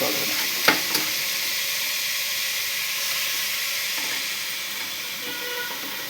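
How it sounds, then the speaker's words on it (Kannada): Chopped palak spinach dropped into hot oil in a pan, giving a loud continuous sizzle and hiss with a couple of sharp clinks early on, steady throughout without talk. "ಈ ಥರ ಹಾಕ್ಬಿಟ್ಟು ಇದನ್ನು ಸಹ ಚೆನ್ನಾಗಿ ಫ್ರೈ ಮಾಡಬೇಕು"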